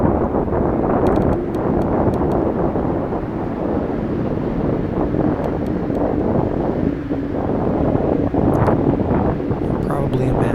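Steady wind buffets the microphone throughout a bike ride on a park perimeter trail, a continuous loud rushing broken by a few faint clicks.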